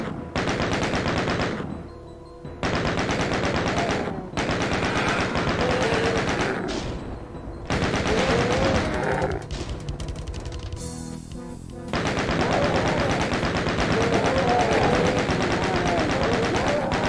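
Rapid, sustained gunfire from classic Doom on PS4, loud and dense, with long continuous bursts broken by a few brief gaps.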